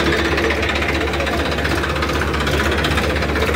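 A 4WD 4x4 DI Smart series tractor engine runs at a farm fair, a loud, steady diesel knocking rumble with constant vibration throughout, close to the listener and unbroken.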